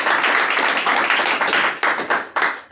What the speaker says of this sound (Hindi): आज सुपरस्टार के लिए एक बार दिल से ताली